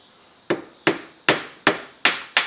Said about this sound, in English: Got this little putty knife. I just tap it lightly with the screwdriver